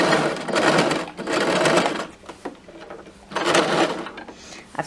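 A sewing machine stitches a hem with a hemming foot in two close, loud bursts of rapid whirring, separated by a short pause with light clicks and handling sounds.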